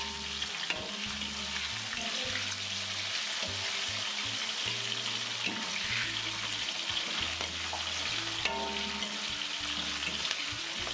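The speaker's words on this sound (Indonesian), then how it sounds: "baru bawang merah, bawang putih, dan juga cabai yang udah dipotong atau ditusuk kita goreng" Peanuts, shallots, garlic and chilies frying in a pan for peanut sambal, a steady dense sizzle with occasional stirring and scraping knocks, close and continuous.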